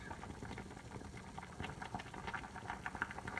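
Fish broth boiling up in a pot, a continuous rolling bubble and gurgle heard close and fairly soft.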